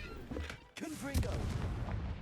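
Confringo fire spell blasting in Hogwarts Legacy, a sudden booming burst followed by a second crack and rumbling debris, with a character's voice speaking around it.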